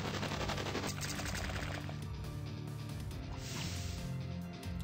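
Dense, loud bursts of explosions and rapid blasts fill a turn-based battle in the video game Epic Battle Fantasy 4 as bombs are used, a continuous barrage of game effects.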